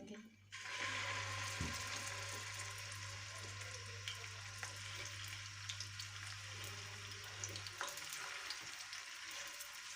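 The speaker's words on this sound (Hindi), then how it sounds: "अब हम सारे कोफ्ते जो हैं ऑयल में डाल देंगे।" Chicken koftas drop into hot oil and set off a loud, steady sizzle and crackle that carries on evenly, with a brief low thump early on and a few faint clinks over the frying, with no speech.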